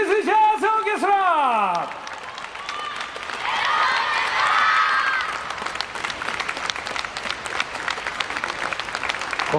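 Audience applause for a jazz orchestra at a summer concert in Nagoya, following a loud announcer's voice; a dense crowd clapping swells, peaks and then thins into scattered claps, with a few whoops.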